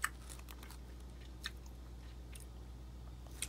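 A chocolate protein bar with chocolate chips is bitten and chewed up close, giving a few sharp crunchy bites and soft wet mastication at a quiet level, with no talking.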